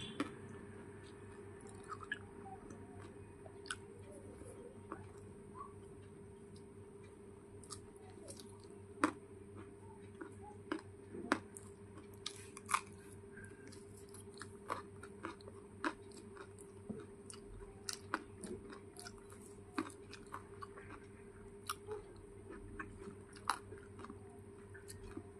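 Ripe pointed gourd (potol) is chewed close to the mic, with soft repeated squishy bites and faint crunches over a steady low background hum. No one talks.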